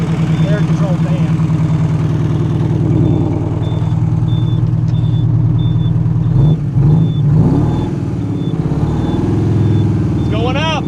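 A 1983 GMC General truck engine runs steadily with a low, continuous drone and a spinning cooling fan, loud and close throughout, while people talk over it.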